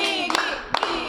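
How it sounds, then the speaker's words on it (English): A classroom group claps in a school drama, a few sharp scattered hand claps in two short bursts over a sustained background tone, close and fairly loud. "Clap for Biggie."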